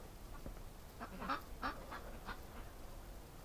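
Ducks kept near a barn in winter quack several times in quick succession, fairly close but soft, over a low outdoor background with no talk.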